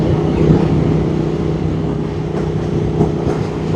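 A motorcycle engine pulls hard under acceleration, a steady loud droning roar with a deep low rumble that holds through the clip without a break.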